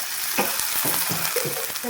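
Sago snack batter dropped into hot oil, frying with a close, continuous bubbling sizzle and short crackling bursts as more pieces go in.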